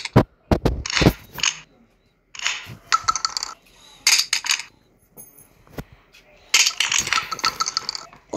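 A shotgun fires in a video game, with a run of sharp, close blasts and clattering mechanical reload sounds in uneven bursts, while a voice talks between shots.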